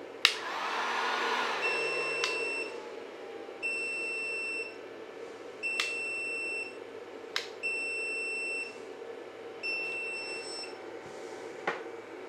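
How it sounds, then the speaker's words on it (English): A heat gun set to level 2 runs on an Ampeak 1200W pure sine wave inverter fed by a REDODO 12.8V 100Ah battery, giving a steady blowing whir while an alarm repeats short high beeps. "And let's turn on the heat gun on level 2."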